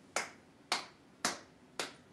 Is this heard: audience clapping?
yes